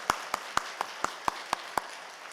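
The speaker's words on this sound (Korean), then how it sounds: "우리 주님께 한번 크게 박수하겠습니다" Worshippers in a Korean church clap in unison, eight crisp, evenly spaced claps in a quick steady beat over a quiet room.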